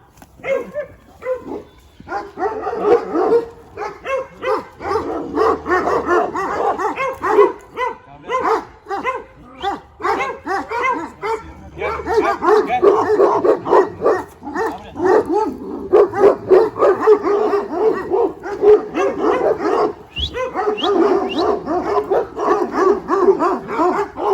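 A dog barks and yips excitedly and repeatedly at close range, almost without pause, with occasional whimpers mixed in.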